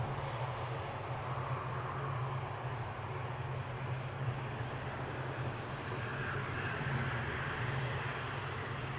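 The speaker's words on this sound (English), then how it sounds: "We have another 777 taxiing right there" Boeing 777 taxiing at Amsterdam Schiphol airport, a steady distant jet engine rumble and whine holding even for several seconds with no talk.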